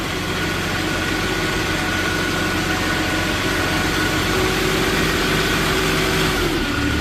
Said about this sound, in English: Now we're going to go ahead and fire it up here. Here's your mast going up and down.